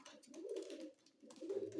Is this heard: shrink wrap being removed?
no